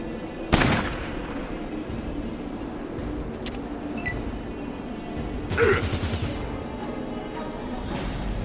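Gunfire aimed at Stumpy in the Fallout Tactics video game, Kansas City mission: a sharp bang near the start and a second burst later, each standing out over a steady low background rumble.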